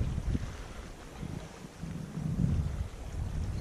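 Wind gusting across a lake on a solo canoe trip, a steady low rushing roar with buffeting microphone noise that swells and eases, loud and close, with no voices.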